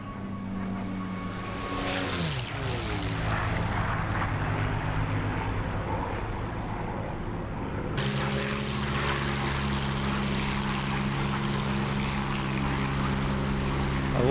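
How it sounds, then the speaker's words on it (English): A propeller aircraft engine in a flight simulator game drones steadily, its pitch sweeping downward as the plane passes early on, then settling into a continuous loud hum that lasts to the end. "Flyby coming up."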